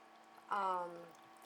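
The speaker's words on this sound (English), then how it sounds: "the little dripping coming out there" Water trickles out of the overflow of a newly built DIY self-watering, sub-irrigated planter as its reservoir fills, a brief close splash-like burst with a tonal ring that fades after about half a second over a quiet background.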